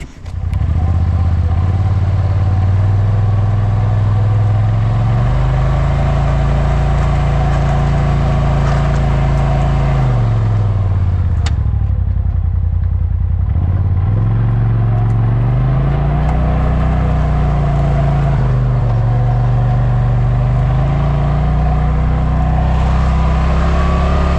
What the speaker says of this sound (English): let me drive it around and see if that took care of it.